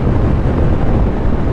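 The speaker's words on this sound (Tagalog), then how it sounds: "Basta malakas hangin." Steady, loud wind buffeting the microphone during a motorcycle ride on an expressway, a continuous low roar with no breaks throughout.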